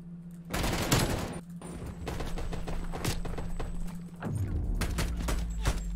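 Rapid bursts of gunfire in a 4v4 Call of Duty Promod tournament match, with sharp repeated shots and short volleys coming in clusters over steady in-game background noise.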